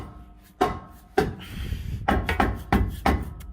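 A small hammer taps a stuck, rusted transmission part on a 2016 Chevy Colorado 6L50, about eight sharp metallic knocks in an irregular rhythm, close and fairly loud, with no talk over them.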